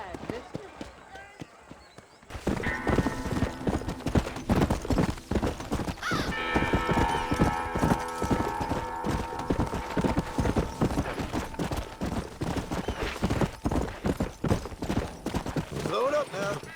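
Horse hooves clip-clop steadily as a rider travels in Red Dead Redemption, a continuous rhythmic trot up close, layered with game music and ambient sound, with voices talking over parts of it.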